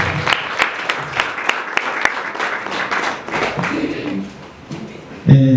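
Applause from a church congregation during a wedding service, a dense burst of many hands clapping that thins out, with speech near the end.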